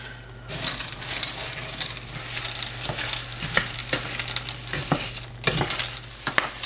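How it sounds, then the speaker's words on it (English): Charred corn for a spicy salsa stirred in a hot pan with the heat just turned off, a close sizzle with repeated scraping and clicking strokes of the utensil in an uneven rhythm, no talking. "we're going to go ahead and turn our heat off and stir our corn"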